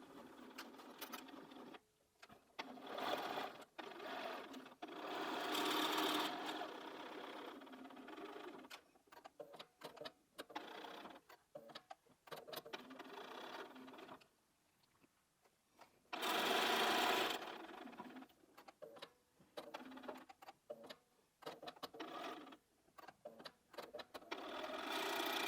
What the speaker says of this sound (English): And then we're going to start to sew.